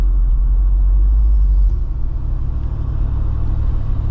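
The 392 V8 in a Jeep Wrangler Rubicon gives a loud, deep, steady rumble from inside the cabin, slightly easing off partway through with no voices.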